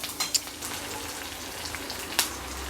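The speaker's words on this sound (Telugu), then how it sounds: "ఆనియన్ ఇలా వేగంగానే ఫస్ట్ కరివేపాకు వేసేసుకుందాం" Curry leaves and onion fry in a pan with a steady sizzle, and a few sharp crackles and pops rise above it.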